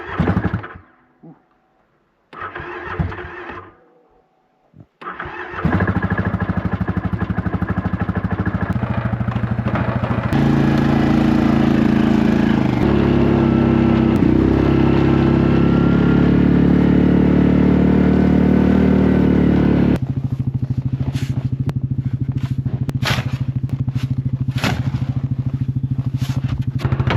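A vehicle engine in the deep cold of an Alaska winter catches after a few brief, faltering attempts, then settles into a loud, steady idle that holds close by, with a sharper rise partway through before easing back.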